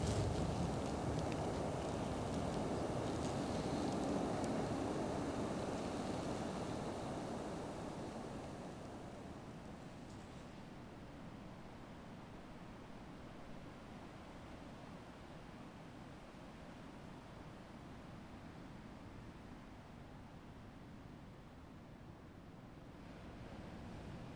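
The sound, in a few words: ocean waves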